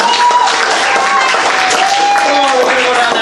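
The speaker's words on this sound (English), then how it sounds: "clap for the choice that you want to see the scene go" Student improv-comedy showcase audience clapping to vote for a scene choice, a loud, dense burst of applause filling the room, with crowd noise and a voice mixed in underneath.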